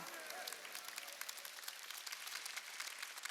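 A church congregation at a Wednesday worship service claps during the sermon, a dense, even patter of many hands that sounds faint and somewhat distant.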